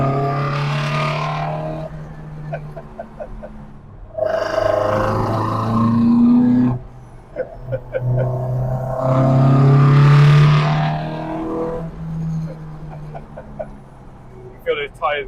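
A loud modified engine in a resto-mod Ford Escort drones and surges beneath two people talking over it, rising and falling in pitch.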